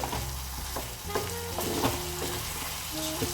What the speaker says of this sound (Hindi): अच्छे से भून लेंगे। हाई फ्लेम है, घुमाना जरूरी है, नहीं तो ये जो पेस्ट है कभी कभी कढ़ाई पे स्टिक कर जाता है।